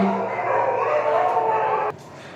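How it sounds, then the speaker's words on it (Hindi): Dogs barking and yelping in a steady overlapping chorus at a distance for about two seconds before cutting off, with faint background voice. "देखिए कुछ कुत्ते भी भौंक रहे होंगे"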